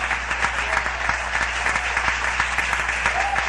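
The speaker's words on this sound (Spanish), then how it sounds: "Dale un aplauso al Padre, Hijo y Espíritu Santo" A congregation applauding during an evangelical church service, brisk sustained clapping with sharp individual claps standing out, steady throughout.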